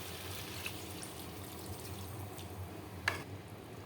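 Water poured into a pot of chicken curry cooking with onions, a soft close trickle under a steady background hiss, with a brief splash near the end.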